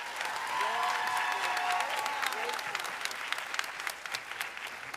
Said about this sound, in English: Let's give Ame another round of applause for that speech.